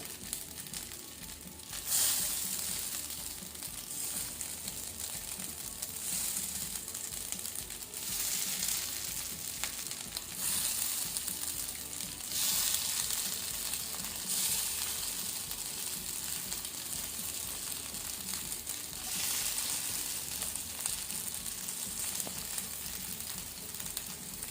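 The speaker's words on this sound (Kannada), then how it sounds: "ಈಗ ಅದಕ್ಕೆ ನಾವು ತುಂಡು ಮಾಡಿಟ್ಕೊಂಡಂತಹ ಪತ್ರೊಡೆಯನ್ನು ಅದಕ್ಕೆ ಸೇರಿಸಿ ಫ್ರೈ ಮಾಡ್ಕೊಳ್ಳುವ." Cut pieces of pathrode, steamed colocasia leaf rolls, fry in hot oil over a medium-low flame, giving a steady close sizzle and crackle throughout with occasional louder bursts of spitting and a few faint stirring scrapes.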